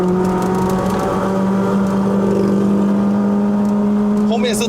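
A remapped 2009 Honda City GM2 1.5E climbs a mountain road. Its engine gives a loud, steady drone with a strong low hum throughout, heard from inside the cabin.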